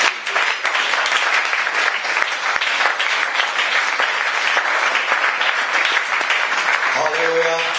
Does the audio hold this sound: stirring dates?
no